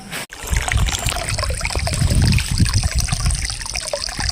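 Water streams steadily over a broad rock slab in the Sahyadri hills, a continuous close trickling and gushing that fills the whole stretch with no talk.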